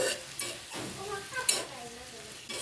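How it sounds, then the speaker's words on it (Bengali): Shredded potatoes frying in a pan give a low sizzle broken by several sharp metallic stirring clinks and scrapes, close up, with faint background voices. "আলু ভাজি হচ্ছে।"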